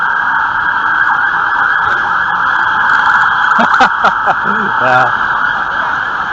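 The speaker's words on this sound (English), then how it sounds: "Siren goes off." A siren wails steadily through busy street noise, with a brief honk or horn blast partway through.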